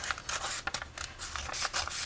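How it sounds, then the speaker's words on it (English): Scissors snip through masking paper on an art project in a series of quick, close, irregular cuts, with faint rustling between the snips. "just take your scissors"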